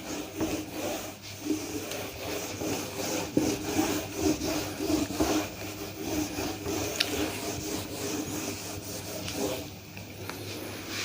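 Writing is rubbed off a classroom board with a continuous scratchy, rhythmic rubbing that runs steadily and close up, with no voice over it.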